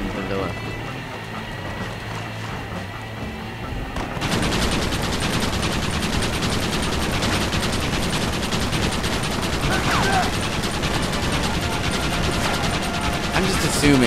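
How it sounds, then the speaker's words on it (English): A Gatling gun in Red Dead Redemption fires a sustained, dense rattling burst that jumps loud at about four seconds and keeps going steadily, with game ambience beneath and a commentator's voice talking over it. "I'm glad I can use the Gatling gun to defend the villa"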